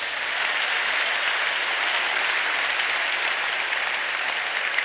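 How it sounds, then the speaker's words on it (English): A church congregation at a sermon gives a steady, dense burst of clapping that fills the space evenly and holds at full strength from start to finish, with no voices on top. "Give God a mighty clap offering."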